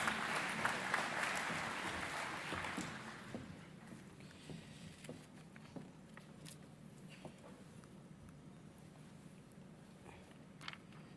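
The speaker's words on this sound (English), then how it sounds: "can we give him a round of applause?" An audience at the 2018 Presidential Jobs Summit applauds the community's overall convener: a dense wash of clapping that is strongest at first, then thins and fades within about three seconds into quiet hall ambience with scattered small sounds.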